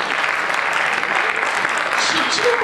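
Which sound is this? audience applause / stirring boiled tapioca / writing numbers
audience applause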